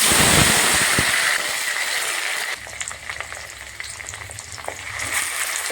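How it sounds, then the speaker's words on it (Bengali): Cumin seeds and dried red chilies sizzle in hot oil for a white Gobindobhog rice pulao, a steady close crackling hiss that softens midway, with no talk. "জিরা শুকনো লঙ্কা ফোড়ন দিয়ে দিলাম"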